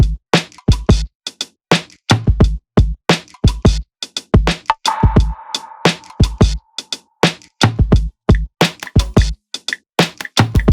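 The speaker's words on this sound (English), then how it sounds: "And here's the drums as a whole." Drum loop from the Native Instruments Burnt Hues expansion playing alone, loud punchy kicks and snappy hits in a steady groove with a brief sustained tonal wash near the middle.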